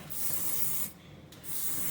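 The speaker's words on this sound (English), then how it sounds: "let's go ahead and spray the pan a little bit" Cooking spray hisses onto a baking pan for honey butter bread in two close, steady bursts separated by a brief pause, loud and near with no talking.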